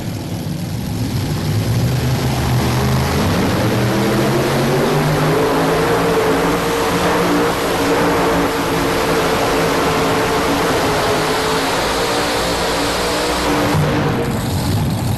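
Powerful engines of 7700 modified pulling tractors roar continuously at close range at a 1999 NFMS tractor pull, pitch climbing as they rev hard, a loud unbroken mechanical drone throughout.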